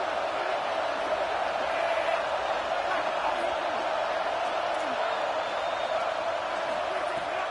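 A football stadium crowd roars steadily, a dense, continuous wall of noise that stays loud and unbroken from start to finish.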